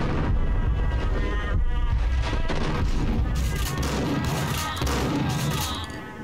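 Gunfire in the Max Payne PC game, a dense barrage of booming shots and crashing impacts filling the scene loudly and continuously before tapering off near the end.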